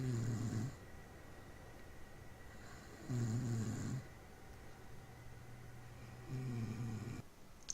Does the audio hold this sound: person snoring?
yes